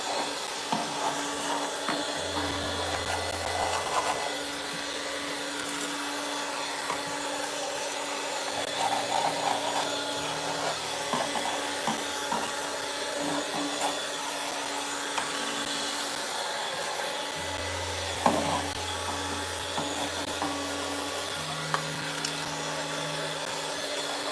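A vacuum cleaner drones steadily and close throughout, a loud broadband hiss with faint rattles and low bumps as debris passes through the hose, including a rock sucked up while clearing a leaf cutter ant nest.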